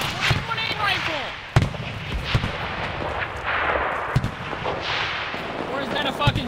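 Rifle shots from an M1A or Mini 14 in a video game ring out sharply at irregular intervals, about five cracks, mixed with game sounds while people talk over them.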